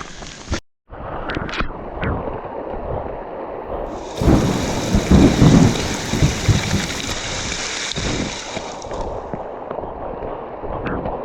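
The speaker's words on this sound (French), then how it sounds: "On se cache de l'orage. Ouais, on est sous l'orage." Heavy rain and hail pour steadily on the GR20 mountain trail in Corsica while a loud rumble of thunder rolls through the middle, close and powerful, then fades back to the downpour.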